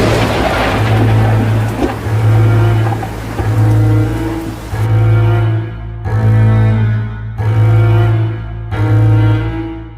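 Steady heavy rain pours throughout with a dull low rumble like distant thunder, loud and continuous, while a droning tone pulses in a slow repeating rhythm over it and no one speaks.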